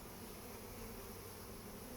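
Bees from a swarm hive buzz continuously during an inspection in Bristol, a dense, steady drone close to the microphone with no talking.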